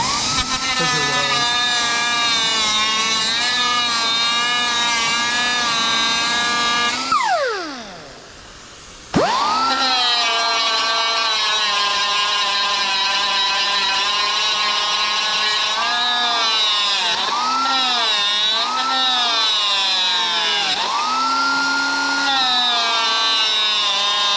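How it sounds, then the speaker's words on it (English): A power grinder whines loudly and steadily against a Camaro door hinge pin, its pitch sagging as it bites, then briefly spinning down near the middle before revving back up and grinding on. "I do want to grind this one down."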